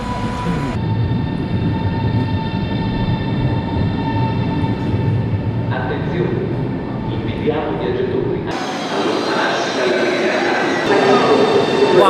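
Onboard a Trenitalia Frecciarossa train between Florence and Bologna, a loud steady rumble and whine of the carriage in motion fills the whole stretch, shifting in tone partway through as the running noise changes.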